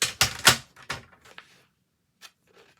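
Paper being cut into a card-sized piece for a tea-cup card craft project, heard as a few sharp, close snips and rustles at the start that then trail off into near quiet.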